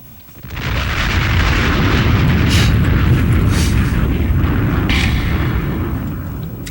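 Bomb explosion sound effect: a loud, sustained roaring blast that swells in and rumbles steadily for several seconds, heavy and broadband, with no speech over it.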